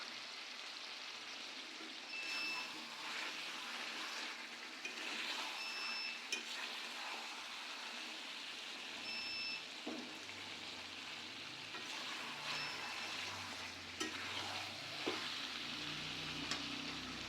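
Chicken and fried potatoes cooking down in a pan, a soft, steady sizzle with occasional stirring scrapes and faint clicks, fairly quiet and continuous.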